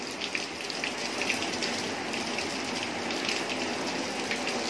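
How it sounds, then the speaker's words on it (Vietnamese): Steady rain pours down over a rain-flooded orchid-growing area in Dak Lei, Dak Kon, forming a continuous, close hiss of drops hitting surfaces with no talking. "Trời mưa quá."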